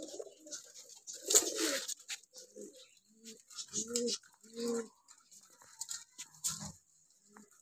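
Pet pigeons coo in a series of soft, close, throaty calls spaced a second or so apart, with faint rustling and chirps from nearby birds and no clear talk.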